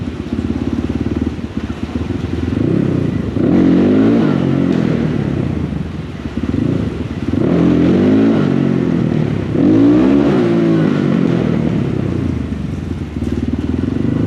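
A loud, close motorcycle engine revs up and drops back several times as it shifts down, with wind rushing past.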